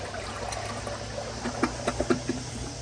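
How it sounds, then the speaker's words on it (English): A 2003 American Standard Champion toilet flushes with a steady rush of water under a low hum, then a few close gurgles and splashes as the bowl drains and refills. "Here is the first flush."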